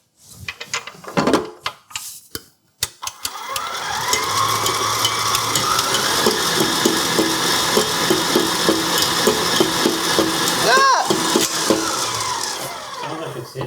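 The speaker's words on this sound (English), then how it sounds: "Sounds like it's hitting a bowl." An electric mixer whirs steadily in a mixing bowl while making molasses cookies, its beaters clattering against the bowl's side in a rapid rattling rhythm. A few sharp knocks come first, and a brief dip in the whirring follows near the end.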